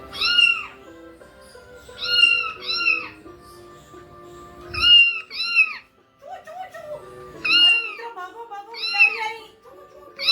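Cartoon cats in a children's story let out repeated meows in three paired bursts, loud and close, each pair answering the last over soft background music.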